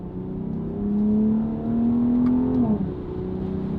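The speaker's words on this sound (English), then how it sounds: "this is what I think the exhaust would be" A BMW X3 M with an S58 engine and Valvetronic Designs exhaust revs up in a smooth, rising drone that holds and climbs over a couple of seconds, then drops off and settles back to a lower hum, heard close with no talk.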